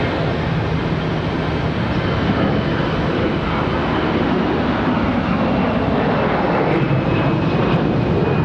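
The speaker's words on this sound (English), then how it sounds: "This departure's off to Georgetown. The A319." An Airbus A319 departing Charlotte Douglas airport produces a loud, continuous jet-engine roar with a steady low rumble and a faint whining tone, alone and unbroken throughout.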